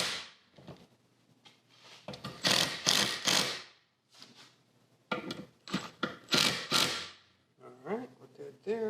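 Ratchet clicking in repeated bursts while clutch pressure plate bolts on a 2015-or-later Subaru WRX are tightened in multiple passes, close and moderately loud, with brief pauses between strokes.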